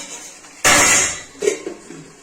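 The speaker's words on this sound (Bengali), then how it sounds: "একটু ঢাকা দিয়ে দিই।" A lid set down onto a cooking pot on the stove in a home kitchen while potatoes and spices simmer, one loud metallic clatter followed by a softer settling clink, close by.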